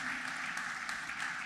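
Sustained crowd applause, a dense wash of clapping from many hands at steady volume, with faint voices mixed in.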